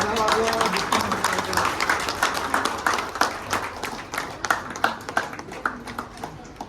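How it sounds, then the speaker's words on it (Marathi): A reunion audience at a society event clapping loudly and rhythmically, close and sustained, with voices mixed in beneath the claps. "जोरात टाळ्या वाजवा."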